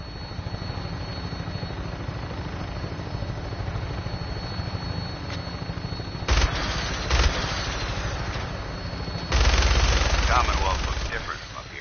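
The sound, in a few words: minigun firing from a helicopter in video game Fallout 4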